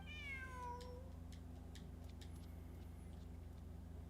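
A cat in a video game gives a single drawn-out meow that descends in pitch at the start, followed by a few soft clicks over a constant low engine-like hum.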